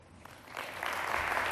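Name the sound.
audience applause after a talk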